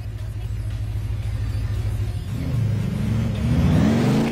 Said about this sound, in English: Okay, go park your car.